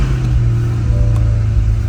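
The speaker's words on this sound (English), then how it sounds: "Starts up nice, gives it a nice bark." A 2022 Corvette convertible 3LT engine fired by push button settles into a steady, deep rumble close by, holding a continuous low growl throughout.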